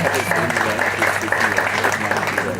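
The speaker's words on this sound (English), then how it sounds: "Can I give a clap?" Scattered clapping from an audience at a TV station commissioning event, moderate and continuous with voices mixed in.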